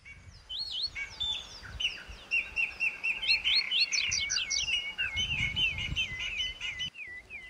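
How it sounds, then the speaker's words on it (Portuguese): A flock of colourful birds chirping all around: dense, overlapping high tweets and trills, continuous and fairly close, rising and falling in busy bursts throughout. "uma centena de pássaros de todas as cores rodeava o homem barbudo."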